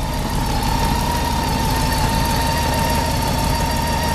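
A Honda F6B motorcycle engine idles steadily just after a Torq Loopz install. The even, close-up idle keeps a faint whine over its low rumble, with no voices.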